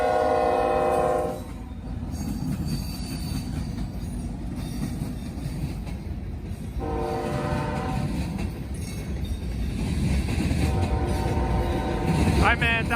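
A Norfolk Southern freight train heading north with a Union Pacific heritage locomotive trailing rolls past in a steady loud rumble. The horn sounds in several blasts and wheels clatter on the rails.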